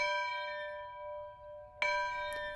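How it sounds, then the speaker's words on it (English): A plantation bell at a settlement farm rings with a steady, sustained metallic tone that lingers, followed by a fresh sharp strike near the end and a fainter touch after it, heard alone without talk. "The plantation bell was used to wake the workers."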